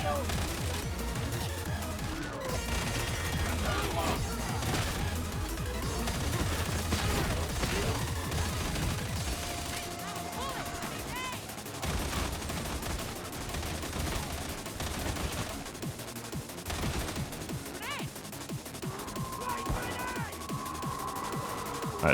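Sustained automatic gunfire and fusillade bursts from the video game Darktide, dense and continuous throughout, with overlapping shots, crashes and effects under occasional voice chatter.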